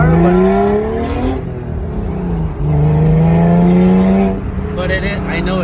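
An Acura NSX fitted with a Pride V2 2.5-inch exhaust pulls hard through the gears, engine note rising in repeated loud sweeps with brief dips at each shift, heard from inside the car.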